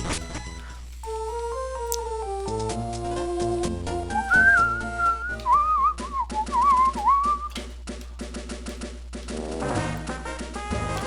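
A person whistles a quick, wandering melody close to the microphone, with bright, sliding notes over a faint background of soft electronic game music.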